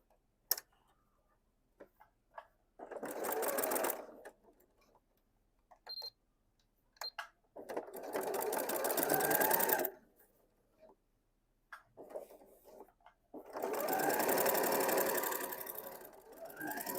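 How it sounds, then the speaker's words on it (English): A sewing machine stitches binding onto a small quilted mug rug in three long runs of rapid, even mechanical chatter, separated by quiet pauses with faint handling clicks. "we'll continue to stitch and join our binding to our"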